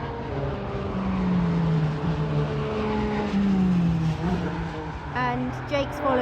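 A rebuilt Ford Fiesta ST track car runs along the Nürburgring straight, its engine a steady droning note that rises and falls slightly over several seconds, with a brief voice near the end.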